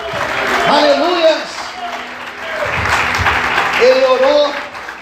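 Steady crowd applause fills a church service, with a voice rising over it in long, tuneful phrases.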